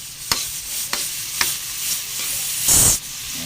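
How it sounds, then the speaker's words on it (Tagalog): Garlic, onion and tomato sizzle and fry in a pan for mung bean soup, a steady close hiss broken by several sharp stirring scrapes and a louder burst of sizzling near the end. "Ayan na po, nagigisa na po tayo."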